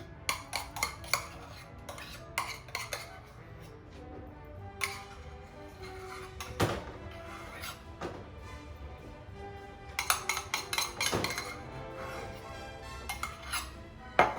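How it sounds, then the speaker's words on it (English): A spoon scoops a mixture out of a measuring cup for the Grey Stuff dessert, with clusters of light metallic taps and clinks against the cup, scattered and uneven, close by and with no speech. "I'm going to scoop it out."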